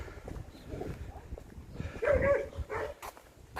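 A dog barks a few times at a distance in Ramsgate, short sharp yelps over outdoor rustling and background noise.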